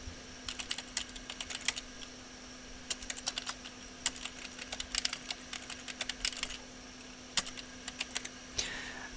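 Fingers type a command on a computer keyboard, quick bursts of crisp clicking keystrokes with short pauses between runs, heard close and alone over a faint steady hum.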